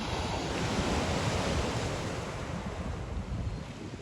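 Sea waves surge steadily against a rocky stretch of the Albanian coast, a loud, continuous wash of surf with wind buffeting the microphone and no voices.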